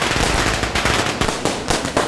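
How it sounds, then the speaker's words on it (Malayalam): Firecrackers burst in a rapid, loud, continuous barrage of sharp cracks at close range, the dense popping running throughout without a break. "അതെ, പടക്കൊക്കെ പൊട്ടുണ്ടല്ലോ."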